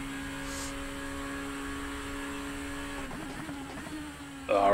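A Super Formula race car engine hums at a steady pitch in the iRacing video game at the Sugo circuit, shifting in tone partway through before revving louder at the end, with someone talking over it.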